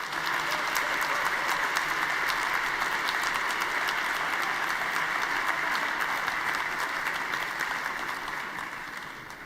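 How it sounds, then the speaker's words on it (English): Big, sustained applause from a large audience at a PES party congress in Amsterdam, welcoming a former president and former secretary general; dense steady clapping fills the hall, fading slightly at the end. "Please give a big applause to our former President Sergei Stanishev and to our former Secretary General Achim Post."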